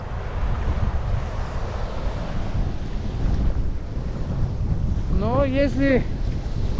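Strong gusty wind at a dirty sea in Anapa on a cold morning, loud rumbling buffets on the microphone with surf underneath, while someone speaks briefly.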